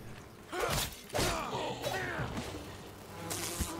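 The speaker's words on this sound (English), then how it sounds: "Why are the bees attacking me?" Swarming bees buzz in the Enshrouded video game as they attack the player, rising in loud bursts over game action with no talk.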